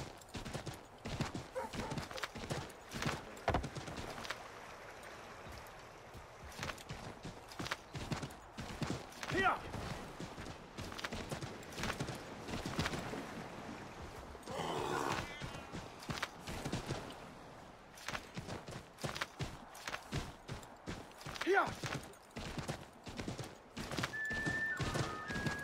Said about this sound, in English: So, time to get a horse.